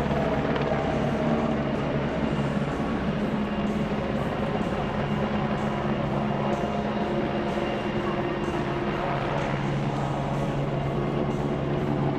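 A military helicopter flies at the NATO Days air show, a loud continuous rotor and engine roar that holds steady throughout with faint crowd and commentary mixed underneath.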